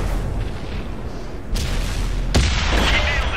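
Booming tank cannon shots in a tank battle video game, two heavy blasts a second apart over a constant rumbling engine drone, loud and close.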